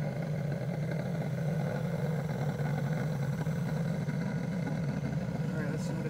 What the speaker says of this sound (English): All I can hear is the boiler.